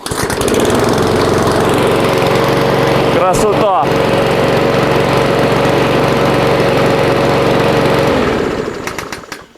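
A Vitals Master Zp 51144td petrol lawn mower engine runs steadily at close range, a loud continuous drone that briefly falters midway, with a short exclamation from a man over it before the engine dies away at the end.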